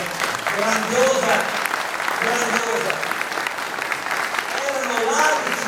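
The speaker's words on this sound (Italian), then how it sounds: "Fategli un applauso perché è una cosa grandiosa." Audience at an Indipendenza Veneta political meeting in Curtarolo clapping steadily throughout, a dense, even wash of applause with voices rising faintly within it.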